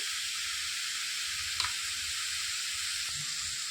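Cumin seeds sizzle in hot oil in a pan, a steady bright hiss that holds throughout, with one faint clink near the middle.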